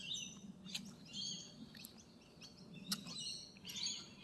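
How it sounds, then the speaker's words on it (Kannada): Small birds chirp and tweet in a forest park inside a city, with several short, bright calls scattered through a quiet, faint background hum and no talking. "ಹಕ್ಕಿಗಳ ಶಬ್ದ ಕೇಳಿಸ್ಕೊಳ್ಳಿ ಯಾವ ಥರ ಇದೆ ಅಂತ"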